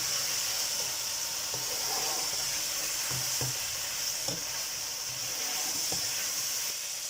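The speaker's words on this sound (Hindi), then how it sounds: "तो यहाँ पे हम गोश्त को अच्छे तरीके से भून लेंगे।" Mutton sizzles and fries steadily in a pot for degi aloo gosht, a constant hiss broken by occasional scrapes and stirs of a spoon, close and continuous with no talking.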